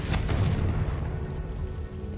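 A Confringo fire spell from Hogwarts Legacy bursts as a dense low boom with a rumbling tail that fades over about two seconds, loud and alone with no voices.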